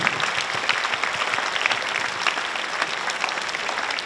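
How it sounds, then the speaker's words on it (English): A school assembly crowd applauds parents and board members with dense, sustained clapping that holds steady throughout the clip. "Let's give them a very big round of applause."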